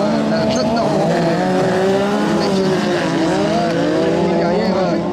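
A rally car roars past at a sprint race in Les Cresnays, its loud engine rising and falling with shifting pitch while a commentator talks excitedly over it.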